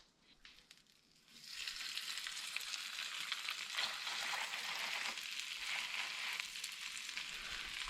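Squid stuffed with Korean BBQ rice and smoked sausage sizzling in a pan, a steady bright frying hiss that rises after a quiet first second and holds alone until the end.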